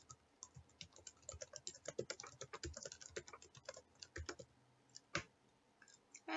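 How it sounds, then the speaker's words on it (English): Text is typed on a computer keyboard in a quick, irregular run of crisp close keystrokes that thins out toward the end into a few scattered taps, with no talking. "Then we're going to type the text."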